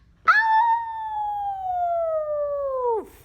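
A person imitates a wolf howl with a single long, steady, falling voiced tone that lasts about three seconds and ends in a downward slide, loud and close, with no other sound.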